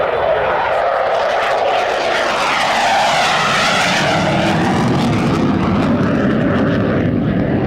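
A military jet roars past at full power during a 1997 air show at Quonset ANGB with its gear retracting, a loud sustained engine blast whose pitch sweeps as it passes close by.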